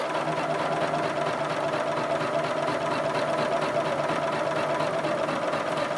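A sewing machine stitching a quilt grid design, a steady fast mechanical whirring hum with rapid needle chatter running continuously and evenly throughout, close up with no talk.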